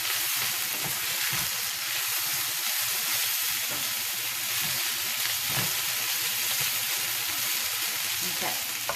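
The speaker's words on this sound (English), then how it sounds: "I will fry the meat for like about 5 minutes" Coated chicken pieces for a fricassee fry in a pan, giving a loud, dense, continuous sizzle and crackle close up, with no talking.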